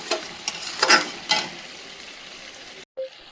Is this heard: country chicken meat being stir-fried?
yes